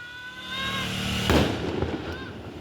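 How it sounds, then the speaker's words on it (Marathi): A firecracker bursts with a sharp bang in a market during Diwali celebrations, standing out from a steady background of street noise and distant crowd sounds. "बाजारात बाहेर सगळे फटाके फोडतात ते, तुम्हाला दाखवतो चला."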